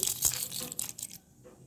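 Mustard seeds, dried red chillies and other tempering spices crackle and pop in hot oil for cucumber pickle, a dense burst of sharp spluttering that thins out after about a second.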